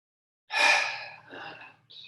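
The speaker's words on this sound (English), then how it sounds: "So breathing in." Slow, audible in-breath during a gentle back exercise, a single close, breathy inhale that swells and then tapers, followed by a softer second breath.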